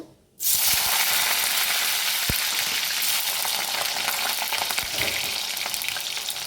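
Potatoes fry in oil with bay leaves and dried chillies for a winter vegetable khichuri, a loud, steady sizzle that starts abruptly and continues densely throughout, with a few faint clicks of utensils.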